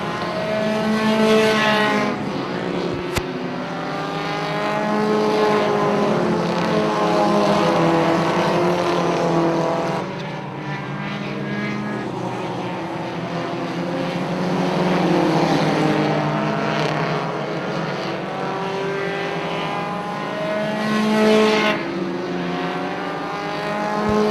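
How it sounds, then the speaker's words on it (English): Loud, continuous engine roar of Pro4 race cars circling an oval track at Punta Gorda Speedway, pitch rising and falling as cars pass, with a sharp crack early on. "but Randy Johnson's car is fast down the straightaway"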